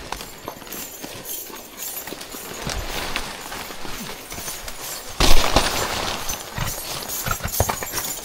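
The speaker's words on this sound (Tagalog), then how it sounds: "para makita natin yung kabayo kung kaya niyang ahonin itong madulas na daan na dito patarik" Horse hooves clip-clop steadily up a steep, slippery road in Tayabas, the hoofbeats close and continuous, growing louder and busier near the end.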